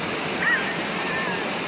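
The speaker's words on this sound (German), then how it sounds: "Hier ist jetzt ein geiler Wasserfall." A waterfall at the Nigeria falls in Essen, Germany, a steady broadband rush of falling water that holds constant and fairly close for the whole stretch, with no talk over it.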